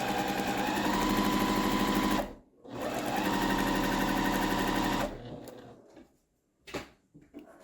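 Sewing machine running steadily while stitching quilt pieces for a 16-patch block, a continuous loud whir for about two seconds, a brief pause, then another sustained run before stopping, followed by a faint handling clatter.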